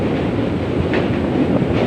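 A train rumbles steadily at close range crossing the Jubilee Bridge over the Ganges, a continuous heavy roar of wheels and carriages with no speech.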